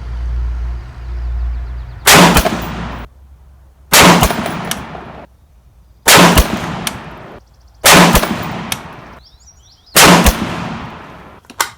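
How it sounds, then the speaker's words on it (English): Five sharp rifle shots from an RRA 20-inch varmint rifle firing reloaded ammunition at 100 yards, each a loud crack with a brief ringing tail, spaced about two seconds apart in a steady rhythm, with no talk between them. "I am shooting right past my camera down there."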